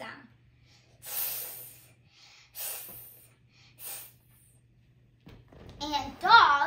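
A voice makes three breathy hissing bursts spaced apart, imitating a cat, then breaks into excited vocal sounds at the end.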